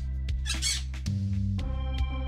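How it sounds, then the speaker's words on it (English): Parrots in the Stardew Valley video game squawk loudly in a quick series of harsh calls, close and alone, each burst ringing with bright game-audio harmonics. "Okay, random ass parrots."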